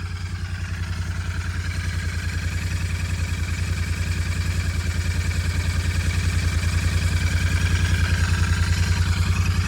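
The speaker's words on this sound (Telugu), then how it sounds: "మీరు ఇంజన్ ఐడియల్గా ఉన్నప్పుడు ఎట్లుంటుంది అనేది చూడండి సౌండ్." A Royal Enfield Continental GT 650 motorcycle engine idles steadily up close, its low rhythmic chug slowly growing a little louder, with no talking.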